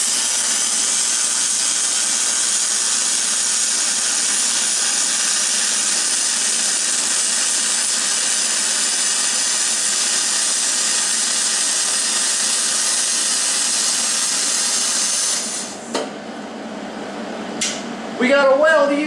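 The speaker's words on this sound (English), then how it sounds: "I think it's time to attempt to run our first weld." Aluminum MIG welding done without a spool gun gives a loud, steady crackling hiss that runs unbroken for about fifteen seconds, then cuts off, followed by a few brief knocks and a voice.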